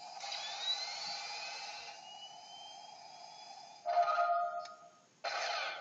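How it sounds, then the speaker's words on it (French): A toy blaster charging up and starting, giving a bright electronic whine with rising tones, then a pause and two louder bursts of buzzing electronic sound near the end. "le blaster se charge, se lance, on entend son joli petit bruit"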